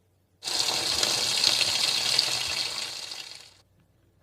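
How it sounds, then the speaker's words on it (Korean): Cold tap water gushes steadily for a few seconds over shredded green onion being rinsed in a kitchen sink, close and continuous before cutting off, with no talking. "채 썰어 놓은 파채는 차가운 물에 담궈서 10분 정도 둔 후에 한 번 더 헹구고 물기를 제거해 주도록 하겠습니다."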